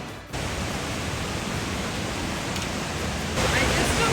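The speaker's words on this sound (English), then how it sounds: "You can hear the waterfalls before you even step out." Waterfalls at the Opryland Hotel, heard from a room balcony, give a steady, loud, broadband rush that continues unbroken after a brief quiet start.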